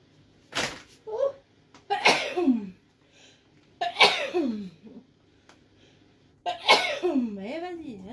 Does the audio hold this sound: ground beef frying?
no